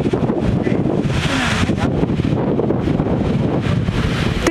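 Strong wind over a wildfire area roars loudly and continuously, buffeting the microphone with a dense, unbroken rush of noise from start to finish.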